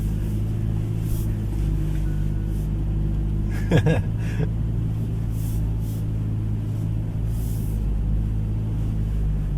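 Steady low diesel drone of a 2026 Toyota Hilux crawling off-road in low range, a constant rumble throughout with a brief knocking rattle midway, heard from inside the cab.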